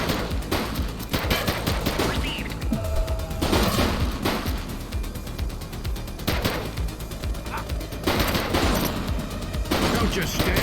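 Heavy gunfire in the police video game The Precinct: repeated loud bursts of automatic shots in dense clusters, with voices and a barking dog mixed in during a street shootout.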